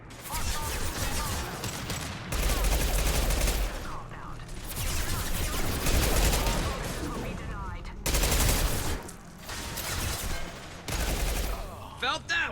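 Sustained bursts of gunfire in the video game Mass Effect 2, with dense rattling volleys of shots broken by short gaps, loud and continuous alongside in-game speech and other combat sounds.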